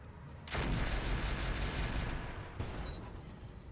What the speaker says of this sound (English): acid mortar indeed